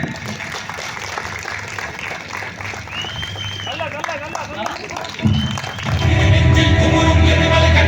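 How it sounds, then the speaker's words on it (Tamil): An audience at a Tamil memorial tribute event claps from a distance under ongoing talk, the sound swelling louder and fuller in the last couple of seconds. "நல்லா கைத்தட்டுங்க"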